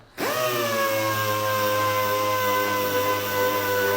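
A pneumatic power tool is switched on and runs at a constant high speed, giving a loud, close, unbroken whine from start to finish.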